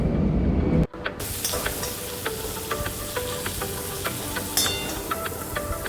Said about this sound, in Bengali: চিংড়ি মাছগুলো আমি ভালো করে ভেজে নিচ্ছি